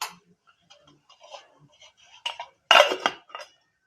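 A lid is set onto a rice cooker making fried rice, with faint small taps followed by a short cluster of sharp metallic clinks close by in an otherwise quiet room.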